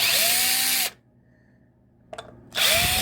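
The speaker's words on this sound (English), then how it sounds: "I'm gonna take these screws out." Power drill backing screws out of a guitar kit's cavity cover, two loud whirring bursts with a rising pitch, split by a near-silent pause and a few small clicks and handling knocks.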